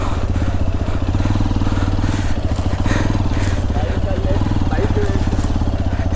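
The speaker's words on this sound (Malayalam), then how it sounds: "സെക്കൻഡ് ഗിയർ ഇട്ട് പുള്ളി ചെയ്ത് നോക്കാം." A Hero XPulse 210 motorcycle rides in second gear, its engine a steady, close, pulsing thrum with a rapid firing rhythm that holds throughout, while a voice speaks over it.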